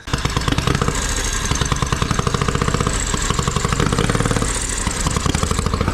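A homemade drivable mower's small engine runs close by during a road test drive, a loud steady rapid putter with rhythmic clattering pulses throughout.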